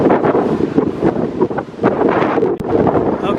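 Strong, steady wind from a haboob dust storm sweeping across the Santa Cruz Valley near Green Valley, Arizona, roaring loud and close against the microphone with gusty surges and a brief dip near the end.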